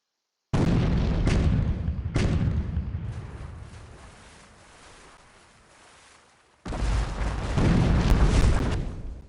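Cannon towers firing in the video game Port Royale 2: loud booming blasts, two close together early, then a long fading rumble before another heavy barrage erupts.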